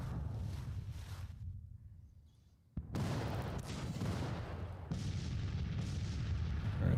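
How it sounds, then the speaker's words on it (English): Artillery batteries fire in a Civil War strategy game: a dense rumble of booms and volleys, a brief lull, then a sharp renewed barrage that keeps rolling. "So artillery is opening up."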